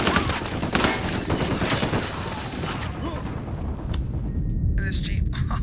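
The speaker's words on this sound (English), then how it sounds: "Oh, I got shot again." Rapid video-game gunfire crackles in dense bursts, loud and close, with a jeep scene in the mix; the shooting thins out toward the end while a voice talks over it.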